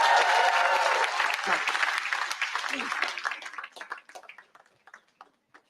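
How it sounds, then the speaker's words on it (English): A crowd applauds Sudha Murthy at an interview event, loud and sustained at first, then dying away into a few scattered, separate claps. "Big round of applause for Sudha Murthy."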